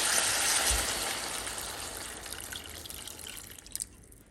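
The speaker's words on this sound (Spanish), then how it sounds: "le vamos a agregar un poco de agua" Steady running water poured in a continuous stream into a pan of tomatoes and chiles, loud at first and gradually easing, ending with a few splashy drips.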